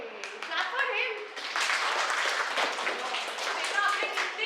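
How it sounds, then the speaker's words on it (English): An audience at an Indian school claps for a student, a steady wash of applause that swells after a moment and runs on under faint voices. "Clap for him."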